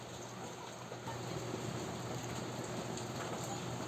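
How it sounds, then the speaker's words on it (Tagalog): Steady rain falls in a dense, even hiss with scattered drop patters throughout, alone and without speech. "Umuulan!"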